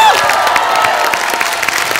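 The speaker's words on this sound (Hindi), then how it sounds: "और एक बार हमारे लड़कों और हमारी लड़कियों के लिए जोरदार तालियां दो" An Indian TV comedy show studio audience applauds and cheers for the boys' and girls' hockey teams, dense sustained clapping with shouts, close and loud, with a voice briefly audible over it.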